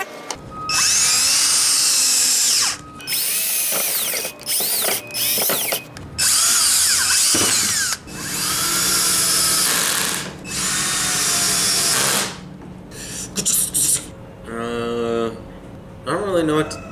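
A power drill drives screws into scrap wood pieces while a bedroom stand is assembled, with several loud, close bursts of whining motor separated by short pauses and a final stuttering, ratcheting run.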